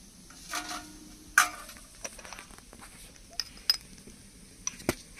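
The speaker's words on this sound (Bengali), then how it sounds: "মাংস কষানো হচ্ছে" Meat is sautéed in a pan, a quiet low sizzle punctuated by scattered sharp clinks and scrapes of a metal spoon against the pan, with one louder knock early on.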